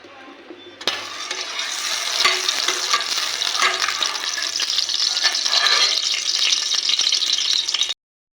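Ginger-garlic paste with turmeric, chili and salt sizzles steadily in hot oil in a pan, a loud continuous frying hiss with some stirring rattle, close by and without talk, cutting off abruptly near the end.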